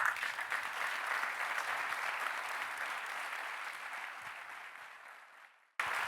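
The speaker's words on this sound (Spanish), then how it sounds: "Fuerte el aplauso" Sustained audience applause at a petrochemical industry conference fills the room steadily, then fades and cuts off abruptly near the end.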